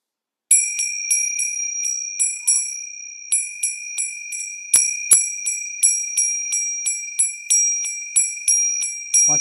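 A bell rings in fast, regular repeated strikes, each bright ring decaying briefly before the next, continuing steadily for about nine seconds with no voices.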